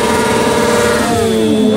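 A BMW motorcycle engine revving up close, a loud continuous roar with rising and shifting tones as the revs climb.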